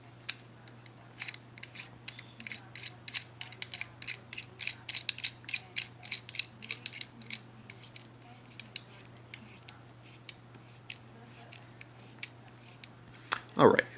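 Vented pommel threaded back onto a lightsaber hilt, a string of small dry clicking and ratcheting ticks in an irregular rhythm, close and fairly quiet over a steady low hum, ending with a brief louder clatter.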